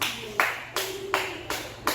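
Wooden dance sticks struck together in a taught rhythm, four crisp, close, evenly spaced clacks each ringing briefly before fading.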